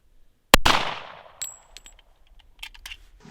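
A single sharp gunshot rings out against a homemade shield built from garbage, followed by a decaying metallic ring and a few faint clanks and rustles afterward.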